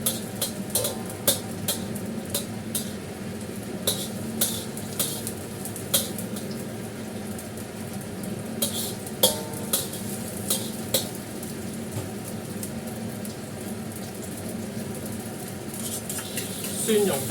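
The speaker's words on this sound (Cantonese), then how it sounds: "爆一爆香啲乾葱先" Dried shallots stir-fry in a hot wok: a constant crackling sizzle broken by regular sharp spatula scrapes and taps against the metal, with faint talk in the background.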